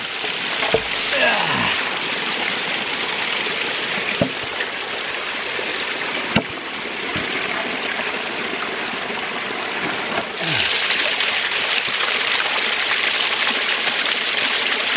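Water rushes and splashes steadily over a micro hydro intake screen box set in a stream, a continuous close-up flow with a few brief knocks and thumps.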